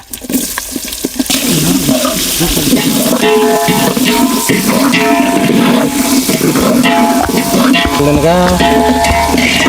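Mustard seeds, urad dal and onion go into hot oil and set off a loud, close, continuous sizzle and crackle, with clattering from a spoon or pan at the start and more stirring later.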